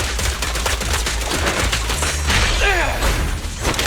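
Gunfire in the video game Zenless Zone Zero, a dense run of rapid shots with thumps and crashes filling the whole stretch, loud and close, with game voices and effects mixed in.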